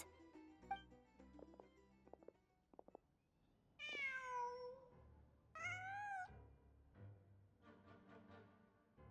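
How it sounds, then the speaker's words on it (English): A cat meows twice in Genshin Impact's Nod-Krai region, each call clear and moderately close, with a gap between them. Soft game ambience and a few light clicks come before and around them. "Just a cat."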